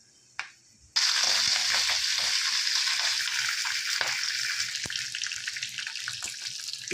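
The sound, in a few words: frying peanuts, green and dried red chillies in oil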